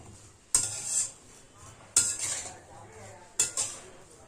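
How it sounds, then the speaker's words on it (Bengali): A spatula scrapes and clinks against a metal pan while vegetables are mixed with mustard oil, heard as three distinct stirring strokes with sharp metallic onsets, close and fairly quiet, with no talk. "এই সবজিগুলোকে খুন্তি দিয়ে ভালো করে মেখে নিতে হবে।"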